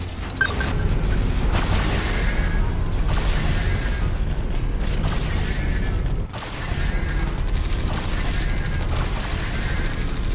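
Intercontinental missiles explode around a storm engine in the Mental Omega strategy game, the battle heard as a dense roar of booms and clanking mechanisms with a sharp break partway through and no talk.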